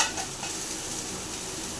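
Ground cumin frying in hot oil in a pan for an eggplant, potato and drumstick curry, a steady close sizzle with scraping stirring throughout.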